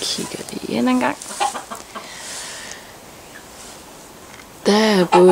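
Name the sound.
chickens clucking in henhouse, including silkie chickens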